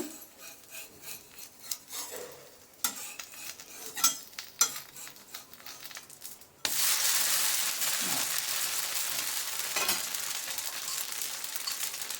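A buttermilk dosa turned over on a hot pan: scraping and rubbing of a spatula first, then a sudden bright, steady sizzle that stays loud and continuous once it flips.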